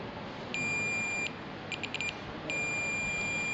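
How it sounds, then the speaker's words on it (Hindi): A multimeter on continuity test against an ECM pin gives a clean electronic beep, followed by a few short chirps and then another sustained tone, all faint over a quiet room hiss. "यहाँ पर बीप साउंड आया,"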